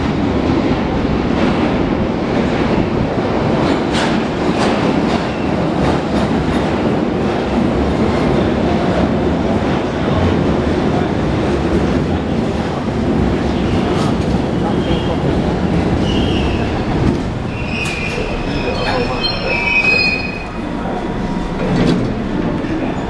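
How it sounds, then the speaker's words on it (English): An underground metro train rumbles past loudly and continuously, wheels clattering on the rails with a steady roar, and a few high squeals near the end. "We don't want this train."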